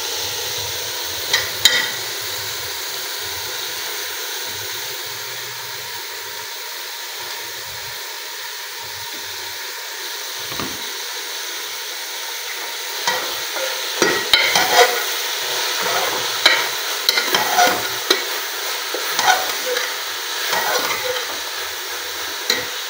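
Cabbage frying in a pan of spiced onion tempering, with a steady soft sizzle and hiss throughout and scraping stir strokes growing busier toward the end, with no talk.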